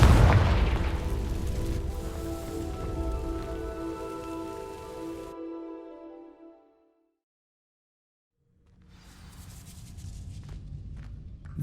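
In Hogwarts Legacy, the Confringo fire spell ignites dry vines with a loud booming burst and a crackling, rain-like fire wash that rings out and fades into silence. A softer crackling ambience returns afterward.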